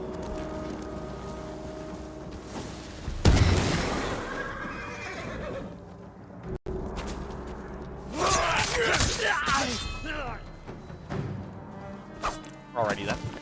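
A horse whinnies in the video game Ghost of Tsushima amid bursts of combat noise, with a clattering impact midway and repeated neighs and hoof-like clatter toward the end, all under an ongoing voice.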